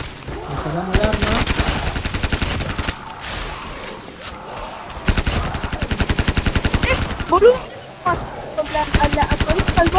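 Rapid video game gunfire in bursts of many quick shots with short pauses between, loud and close, while someone talks in Spanish between the volleys.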